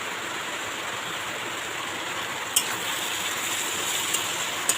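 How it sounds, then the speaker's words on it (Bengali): Heavy rain pours down outside an outdoor kitchen, a steady, dense hiss with no pause, broken late on by a few sharp clicks or drips standing out from the roar. "আমাদের এখানে খুব জোরে বৃষ্টি নেমেছে, আপনারা আওয়াজ পাচ্ছেন কি না জানি না"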